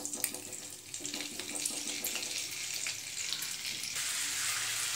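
Butter melting into oil in a pan on the stove, a soft continuous sizzle that grows steadier and slightly louder toward the end, with faint clinks and no talking.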